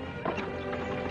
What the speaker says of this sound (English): Two men on horses.